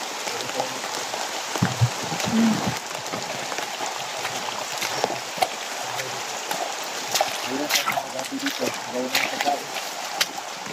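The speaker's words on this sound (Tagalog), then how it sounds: "Tignan niyo mga kadinis, sobrang lakas ng ulan." Heavy rain pours steadily and densely, close and loud throughout, with scattered brief voices and movement sounds mixed in.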